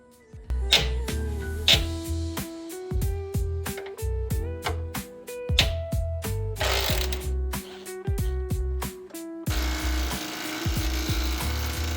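Rapid ratchet wrench clicking in repeated bursts as lower control arm bolts are loosened on an Alfa Romeo Giulietta, close and loud, ending in a stretch of broader mechanical noise.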